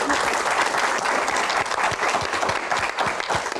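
Audience applause for Pak Bahlil at a Q&A event, a dense, steady wash of clapping from a crowd that holds evenly loud throughout, with no talking over it.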